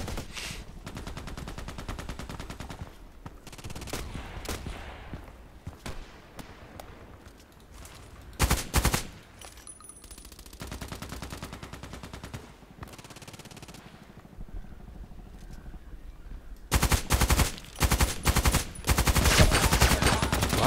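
SCAR-L rifle fire in a first-person shooter game, short sharp bursts of shots spaced across quiet stretches, with a heavier cluster of rapid fire toward the end.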